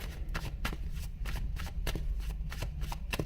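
Tarot cards being shuffled by hand for a reading, a rapid run of crisp riffling bursts repeating in quick rhythm, close and alone.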